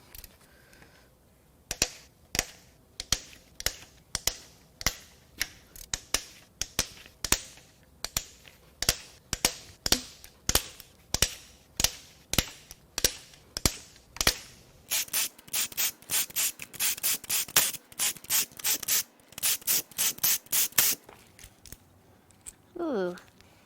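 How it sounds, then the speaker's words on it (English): A hand ratchet clicks in quick, repeated bursts while cam cap bolts are loosened on a Ford Focus 2.0L cylinder head, sharp close pawl ticks in a steady rhythm that speeds into denser runs toward the end. "Let's crack these cam caps loose."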